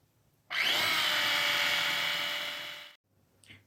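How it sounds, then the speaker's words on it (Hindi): An electric kitchen grinder whirs loudly for about two and a half seconds as it purées cooled cooked spinach, a high steady motor whine that slows slightly before stopping, followed by a brief soft rattle. "पालक ठंडी हो गई थी, इसको मैं ग्राइंडर में डाल के ग्राइंड कर रही हूँ।"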